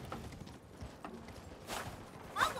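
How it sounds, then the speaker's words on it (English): Horse hooves thud at a quick gallop in the video game Elden Ring, faint and distant-sounding, with no speech over them. "I'm running with my horse"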